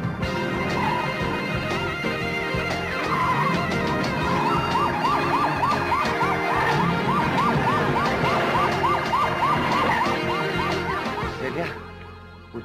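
Police car sirens wailing loud and close, a rising and falling whoop repeating over a busy street din with voices mixed in, then cutting off abruptly near the end.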